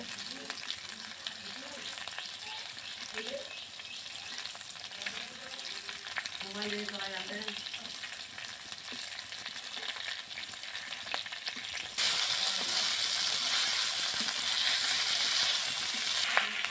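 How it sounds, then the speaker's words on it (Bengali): Chicken pieces fry in a pan with a bay leaf, a chili and a little cumin, giving a steady close sizzle under scraping stirs; the frying grows noticeably louder and brighter partway through, and no one talks. "এবার আমরা এটা মাংসের সাথে ভালোভাবে মিশিয়ে নেব।"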